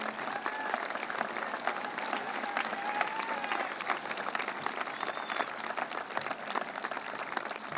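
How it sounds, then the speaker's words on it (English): A crowd at a 2024 high school graduation ceremony applauds the faculty with steady, even clapping that sounds distant and subdued, as if heard from across a large venue, lasting nearly eight seconds. "Give them a round of applause"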